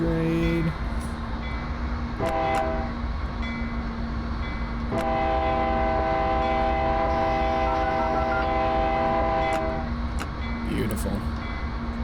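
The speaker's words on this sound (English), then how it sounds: "Blow our horn for the crossing grade." Train horn in Train Simulator 2021 on the Tehachapi Pass, sounded for a grade crossing while a locomotive idles on a siding: two short blasts, then one long sustained chord, loud and close over a steady engine rumble.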